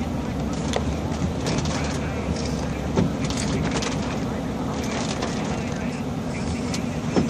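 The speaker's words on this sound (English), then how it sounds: "like misfire. like one cylinder's not firing." A car engine running rough with one cylinder not firing and the check engine light flashing, heard from inside the moving car as a loud, steady low rumble with faint irregular knocks.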